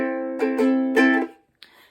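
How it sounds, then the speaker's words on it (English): Ukulele played with an island strum pattern in a swing tune, a few bright strummed chords in quick rhythm ringing close and clear, then a short muted scratch. "the first strum pattern that I use is the island strum"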